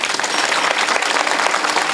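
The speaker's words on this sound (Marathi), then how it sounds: "जोऱ्या टाळी वाजवा." Audience clapping at a comedy kirtan in a Marathi village gathering, a dense, loud, continuous wash of applause filling the whole moment with a voice faintly mixed in.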